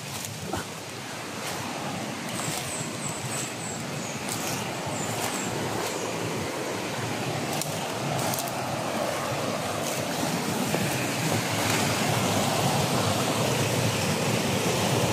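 A stream flows during exploration in a video game, a broad, steady rushing wash of water that swells slightly louder toward the end, with a few faint chirping tones and soft clicks over it.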